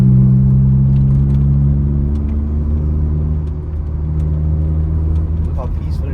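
A Honda Civic EP2 engine drones steadily from inside the car on a night drive, with low humming tones that drift as the revs ease off. A person speaks over the engine.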